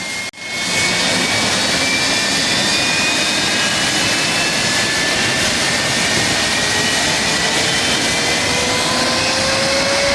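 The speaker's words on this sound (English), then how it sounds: "this DC-10 lit up the sky with afterburner power, turning heads with its roaring exit" A DC-10 jet on its takeoff run under full power gives a loud, steady roar that fills the whole clip, with faint high whines sliding in pitch over the dense rumble; no voices.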